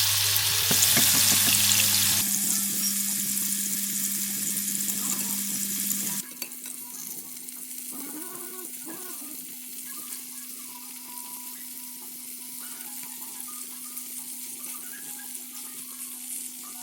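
Tofu fries in a salted, oiled pan with a loud close sizzle at first that drops to a softer, steady crackle after a few seconds, with light clinks of stirring.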